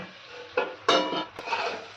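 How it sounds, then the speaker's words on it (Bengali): Kudli and potatoes cooking in a covered pan give a quiet low simmer, then a few louder bursts of sizzling and clatter as the lid comes off and the pan is handled, all close by with no talking. "এবার খুলে দেখবো কতটা ভাজা হয়েছে।"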